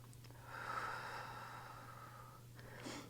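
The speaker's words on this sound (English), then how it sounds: "2 more big breaths here" Slow, deep breaths are drawn in and let out while a yoga pose for lower-body strength is held, a soft airy inhale swelling and fading over a low steady hum.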